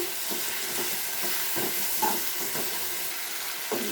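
Tomatoes frying in a pan for a mango egg curry, with a steady sizzling hiss broken by soft scraping stirs at irregular intervals, close and fairly quiet, with no voices.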